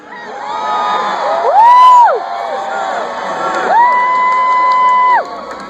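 A large outdoor crowd at the Groundhog Day gathering for Punxsutawney Phil in 2014 cheers and whoops loudly, in two sustained swells of shouting voices.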